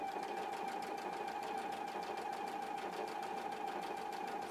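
A Husqvarna Viking EPIC 2 sewing machine stitches 4-way stitches with a continuous fast, even mechanical whir and rapid needle clatter, close and steady throughout with no talk.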